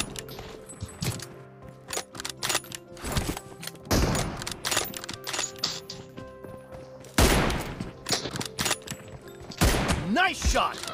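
Gunshots in the PUBG Mobile video game crack out as scattered single shots and short bursts, some sharp and close, others duller, spread over several seconds with a voice talking between them.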